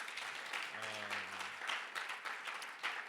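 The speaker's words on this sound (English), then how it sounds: "Shall we give it another round of applause for our guest?" Audience applause for a guest at a youth conference: a steady wash of clapping that runs the whole time, with a brief tonal hum partway through.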